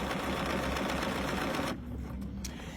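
A Bernina sewing machine stitches a large buttonhole with steady, rapid mechanical stitching that runs loud and close, then drops off abruptly partway through, leaving a quieter motor hum.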